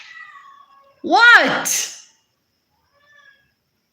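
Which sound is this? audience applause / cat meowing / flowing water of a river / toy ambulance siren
cat meowing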